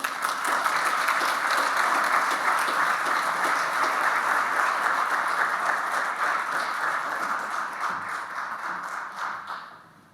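Steady, full-room applause from a Rotary club audience in Boulder welcoming a university president to the podium, sustained clapping that thins and fades out at the end.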